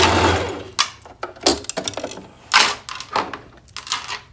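A sewing machine runs a stitch along the cut edge of a quilted jacket, fast mechanical bursts broken by short pauses, close and loud with no talking.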